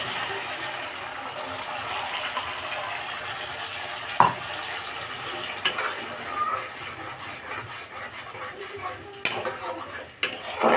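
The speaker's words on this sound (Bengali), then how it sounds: "এইটা দিয়ে আমি খানিকক্ষণ কষাবো" Cashew and melon seed paste is sautéed into oily masala in a pan, making a steady soft sizzle broken by occasional scrapes and knocks of the spoon, with no talking.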